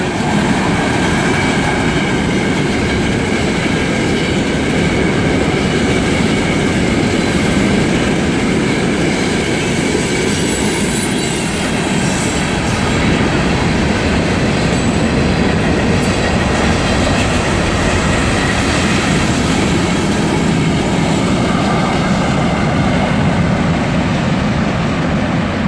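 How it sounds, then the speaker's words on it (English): A long freight train rolls steadily past, close and loud, with continuous rumbling and rhythmic clacking of wheels over rail joints throughout. "This is a fairly long train right here."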